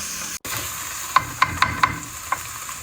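Crab curry masala sizzles softly while being sautéed in a pan, with a handful of sharp spoon scrapes and clinks against the pan over the steady hiss.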